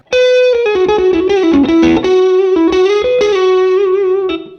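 Electric guitar played through a Morgan MVP23 amp with an always-on pedal, loud sustained distorted notes and a melodic phrase with bends, ringing out alone before fading at the end.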